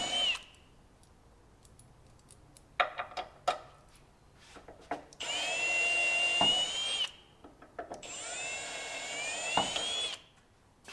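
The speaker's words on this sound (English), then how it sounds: "I'm going to come through with a step down bit and just open them up a little bit" Step drill bit boring through and widening holes in a powder-coated steel tire carrier, two sustained whining drill bursts with rising pitch, set among scattered clicks and handling taps, close and fairly loud, no talk.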